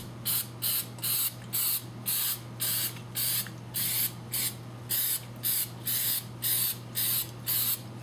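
A spray can applied to the front differential of a 2003 Dodge Durango releases about fourteen short, evenly spaced hissing bursts over a low steady hum, close and fairly loud.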